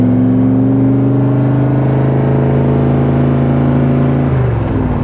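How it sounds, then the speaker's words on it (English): A 1965 Superformance Cobra with a small-block Ford 351 V8 making 470 horsepower, paired with a Tremec 5-speed, runs loud and close on a test drive. The engine holds a steady, deep, throbbing drone with a slight pitch shift near the end. "Small block Ford, 351, 470 horsepower, like I said before"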